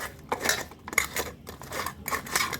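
Raw fish is worked by hand with salt and turmeric in a bowl, giving soft rhythmic squelching and light scraping in repeated strokes, close and fairly quiet, with nobody talking.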